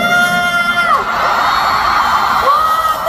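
A large concert crowd at a K-pop fan concert in Manila screams, whoops and cheers continuously, loud and close, with high-pitched shrieks rising above a dense wall of noise.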